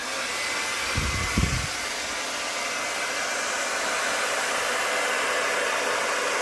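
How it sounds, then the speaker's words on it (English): A hair dryer blows steadily over an acrylic pour painting on canvas, a loud, constant broadband whoosh, with a couple of brief low thumps early on. "I'm going to do a couple swipes with the hairdryer"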